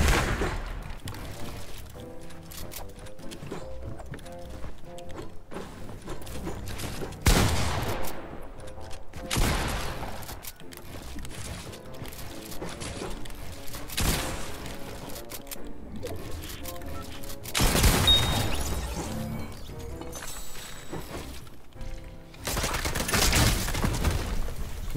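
Repeated gunfire in a Fortnite match, scattered bursts of shots rising out of quieter stretches, with occasional louder volleys.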